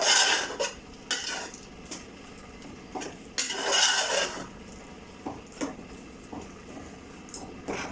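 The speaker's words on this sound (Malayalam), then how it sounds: "എന്നിട്ട് നന്നായിട്ട് ഇളക്കി യോജിപ്പിച്ചിട്ട് വീണ്ടും അടച്ചു വയ്ക്കാം." A spoon stirs chicken curry with coconut paste in a metal pot, scraping and knocking against the sides in uneven bursts, close by, with short pauses between strokes.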